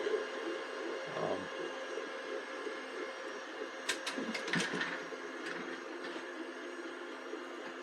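A Two Trees Bluer Plus 3D printer running quietly, with a steady soft whir and hum plus a few light clicks and ticks near the middle, nearby and free of speech.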